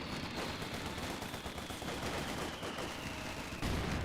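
Company of Heroes 2 combat with mortar hits and gunfire: a continuous roar of machine-gun fire and blasts, steady and loud, with a heavier impact near the end.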